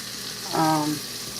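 Celery tipped into a hot pressure cooker pot, a short sizzle and clatter lasting under half a second against a quiet kitchen hum.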